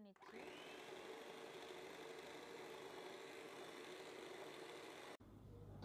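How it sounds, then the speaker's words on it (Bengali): An electric mixer beats eggs and sugar at high speed for a fruit cake batter, a steady loud motor whir that runs unbroken for several seconds and then cuts off abruptly. "এখন হাই স্পিডে বিট করে নিচ্ছি।"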